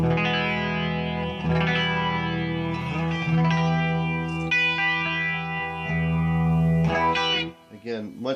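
An electric guitar played through a chorus effect rings out in sustained notes and chords, with a shimmering, slightly compressed tone and echoing tails.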